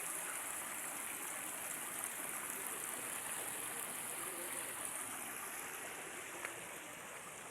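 Clean stream water flows in a steady, dense rush close by, continuous and even with no voices.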